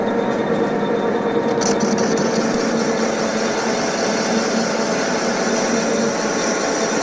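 An IZh 250P metal lathe turns at 300 rpm while cutting, a steady continuous mechanical whir and hum that holds without change throughout, with a brief faint click early on.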